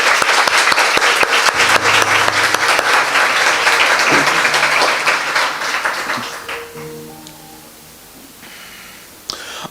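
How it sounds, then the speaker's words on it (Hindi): Loud applause from a church congregation rings out as a thick burst of clapping, then thins and fades toward the end, leaving scattered claps and quiet rustling. "आइए उस महान मददगार के लिए एक जोरदार ताली बजाएं।"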